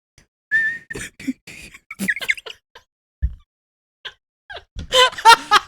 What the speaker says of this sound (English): That was the fucking worst whistle.